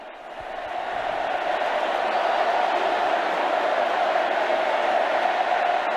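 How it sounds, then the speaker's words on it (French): A large Congolese crowd greeting the Pope roars in sustained cheering that swells in over the first second and holds loud and steady, a distant wall of voices with no single speaker. "qui est répondu par une acclamation de joie et de jubilation"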